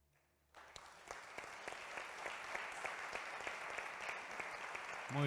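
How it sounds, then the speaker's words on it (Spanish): Audience applause at a Día Internacional del Detenido Desaparecido commemoration event, starting abruptly after a brief pause and building into sustained, dense clapping from a sizable crowd for several seconds. "Fuerte el aplauso entonces para Lucía Giudice"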